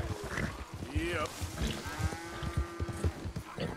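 An Angus bull in Red Dead Redemption 2 lets out a long, low, drawn-out moo at a moderate distance, layered over muddy farm ambience and soft thudding steps.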